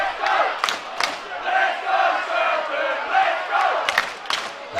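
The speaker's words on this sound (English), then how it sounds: "As we hear the crowd in full voice." A large crowd at an NPOB versus Stratford/Eltham sports match roars and cheers loudly throughout, with a sustained wash of voices punctuated by sharper shouts and whistles, fairly close and filling the whole stretch.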